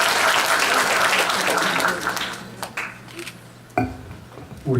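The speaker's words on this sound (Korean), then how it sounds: "박수로 환영해 주시면 감사하겠습니다." An indoor audience at a Korean engineering talk-concert ceremony claps to welcome a speaker. The applause is dense and loud for about two seconds, then thins into a few scattered claps and faint clinks.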